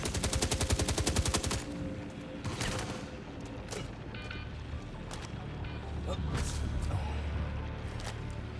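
Rapid machine-gun fire in Star Citizen opens with a loud, fast burst, then scattered single shots and impacts ring out over a steady engine-like hum.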